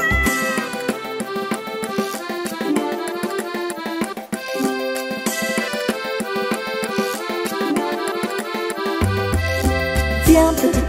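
A French children's song about a little kitten, with meow-like calls woven into a steady, bright musical backing that plays continuously throughout.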